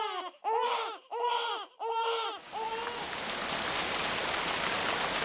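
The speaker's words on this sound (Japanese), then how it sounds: "なんかすごく雨降ってきた？" Heavy rain comes in suddenly and holds as a dense, steady hiss after several cartoonish sung or voiced tones at the start.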